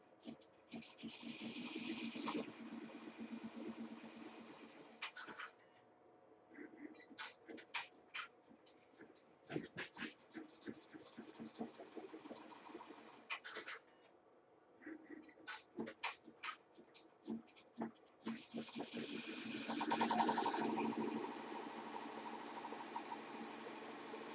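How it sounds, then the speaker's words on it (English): A sewing machine stitching applique runs in short bursts, buzzing for a few seconds, stopping briefly, then starting again, with a longer, louder run near the end. "And I didn't set the machine up to continue to go ahead and stitch."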